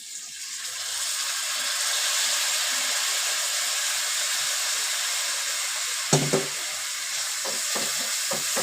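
Dal sautéing in a hot pan hisses in a steady, loud sizzle, with a few spoon scrapes and clatters of stirring near the end.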